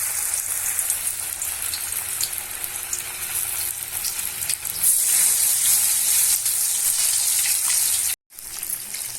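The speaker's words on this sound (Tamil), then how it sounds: "வடை நல்லா வேகட்டும்." Banana flower vadas fry in hot oil, making a loud, dense, continuous crackling sizzle close by that briefly cuts out near the end before resuming.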